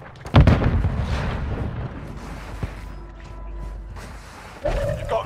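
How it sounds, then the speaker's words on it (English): A grenade explodes in Call of Duty Warzone Mobile with one loud, deep boom near the start, followed by a rumbling decay, faint game ambience and a brief game voice line. "Grenade out!"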